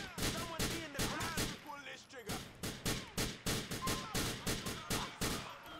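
Rapid gunfire in a GTA IV shootout, with repeated sharp bursts of shots in quick succession and a brief lull partway through.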